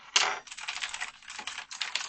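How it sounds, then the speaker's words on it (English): Fast typing on a Razer Chroma X mechanical keyboard gives a bright run of clattering key presses, close and crisp, with a brief gap partway through. "Now I have a mechanical keyboard. Pretty annoying, right?"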